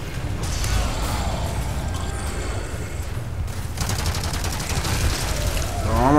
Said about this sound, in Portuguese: a metralhadora é bom, velho